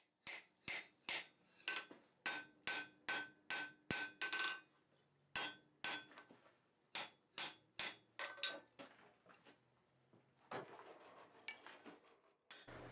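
A hammer strikes hot steel on an anvil while forging a leather punch, with steady runs of ringing close blows, short pauses between series, and lighter taps near the end.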